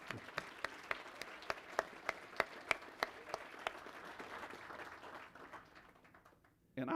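An audience at a ribbon cutting event with members of a state House of Representatives claps in a room, a burst of applause with sharp rhythmic claps that swells, then thins and fades out before a voice resumes.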